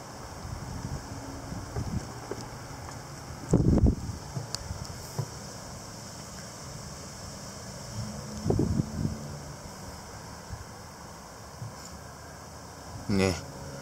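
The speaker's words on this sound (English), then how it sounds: "It's just gusty, it's not windy per se." Gusty wind outdoors, a steady low rush with sudden buffets hitting the microphone, heard under people talking.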